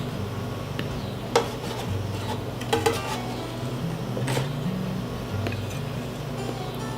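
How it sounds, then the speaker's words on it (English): Dairy-free lactation cookies are lifted off a baking pan, with a few sharp metallic clinks and scrapes of a utensil against the tray over a low background hum. "So we're gonna get them out off the pan"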